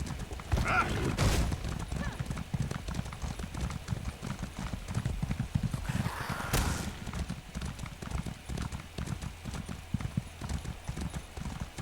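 Horse hooves from The Elder Scrolls Online clip-clopping steadily at a trot, with a couple of brief whinnies over a low rumbling background. No talking.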